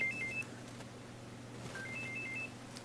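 A phone rings during a live show, its electronic ringtone chirping in short melodic bursts twice, faint beneath a low background hum.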